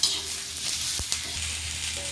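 Soft, steady sizzling of onion and coriander roasting on a griddle pan, with a couple of brief scraping stirs in the middle.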